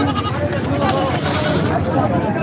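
A one-year-old goat bleats in wavering cries over a busy background of people talking nearby at a goat market in Aundha, Maharashtra.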